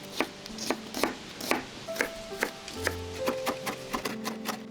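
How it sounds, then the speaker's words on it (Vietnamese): A knife taps steadily on a cutting board mincing shallots, about three chops per second, close and crisp, with faint tonal beeps in the background. "Hành tím mình cũng băm nhuyễn luôn."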